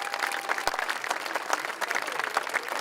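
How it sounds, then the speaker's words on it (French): A crowd at a French Basque town celebration applauds an association marking its hundredth anniversary, with brisk, dense clapping and a few louder individual claps standing out close by. "On peut les applaudir."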